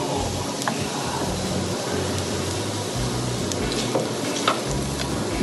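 Bitter gourd fries in a hot pan with ghee added, giving a steady, dense sizzle with occasional stirring scrapes throughout, close and fairly loud.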